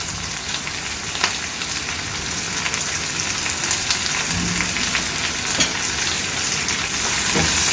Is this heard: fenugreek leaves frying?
yes